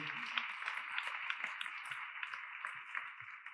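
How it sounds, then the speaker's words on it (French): Faint, distant audience applause after a conference talk on sustainable transition, a steady patter of many hands clapping at low volume with no speech over it. "Je crois que vous pouvez les applaudir"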